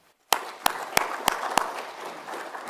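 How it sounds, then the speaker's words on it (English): An audience at an underwater occupational health and safety conference applauding a speaker's welcome, starting abruptly after a brief silence, several loud close hand claps standing out over a scattered crowd clapping that fades slightly. "would you join me in giving a hand clap and welcoming Mr."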